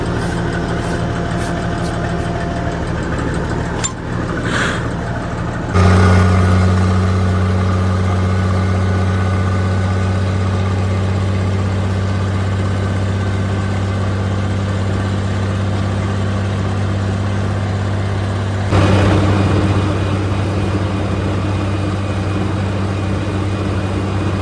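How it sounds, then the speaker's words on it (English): A farm tractor idles steadily with a low, even engine drone that runs almost unbroken, with a brief surge in level near the start and again toward the end, and no talk over it. "I'm going to bring the tractor and wagon over to the pasture"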